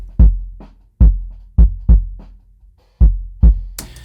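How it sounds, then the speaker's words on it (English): A kick drum captured through a homemade sub kick microphone thumps out about eight deep, booming hits at an uneven pace, each with a long low decay, close and loud with nothing else over them. "This is a DIY sub kick that my dad made for me."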